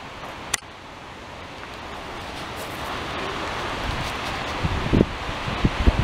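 Steady broadband wind gusting around small wind generators, a Belgrade mini axial turbine and a Freedom II, with rustling and buffeting that swells over several seconds, plus a sharp click near the start and a few soft thumps toward the end.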